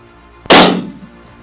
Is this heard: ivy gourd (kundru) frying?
no